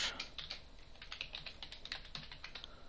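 Quick, irregular clicking of a computer keyboard as an email address is typed, close and fairly quiet with no talking.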